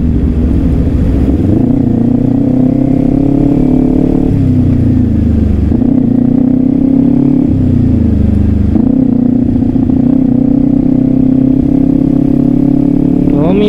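A Kawasaki Ninja 400 motorcycle rides through traffic: a loud, close, continuous engine drone whose pitch rises and drops across several gear changes, with no pause in the sound.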